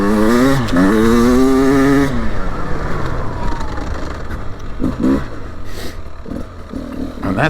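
Beta 300 Race Edition two-stroke dirt bike ridden on a cold day, its engine climbing under throttle with a rising, buzzing whine, then easing into rougher, choppier running and short blips.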